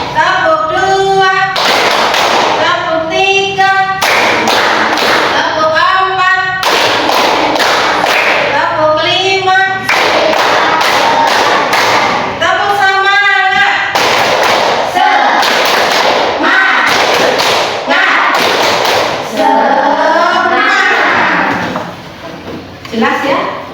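Fifth-grade schoolchildren perform a rhythmic hand-clapping game in a classroom, with loud chanted voices and sharp, patterned claps repeating in bursts throughout.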